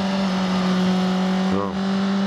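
A car engine held at a steady high drone under hard acceleration, loud and continuous with a brief dip as it shifts, close to the listener.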